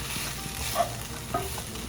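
A chopped pork chop sizzles in a pan with peppers and onions, giving a continuous close crackle, plus a couple of soft stirring knocks partway through.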